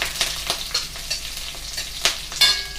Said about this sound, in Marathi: मिरची टाकल्यानंतर थोडा जिरं, त्यानंतर कढीपत्ता छानपैकी मिक्स करून घेऊया।